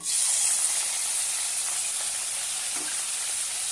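Cumin seeds and finely chopped tomato sizzle loudly in hot oil in a pan for a drumstick and dal dish, a steady close hiss with faint stirring clicks.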